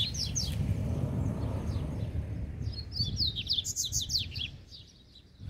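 A loose coleiro, the double-collared seedeater, sings near its cage in a grassy spot, sending out short bursts of high chirps and trills over a low outdoor rumble, the phrases clustering toward the end.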